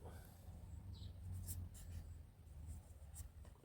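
Numbers being written by hand, soft scratchy pen strokes in short bursts over a low, steady background rumble.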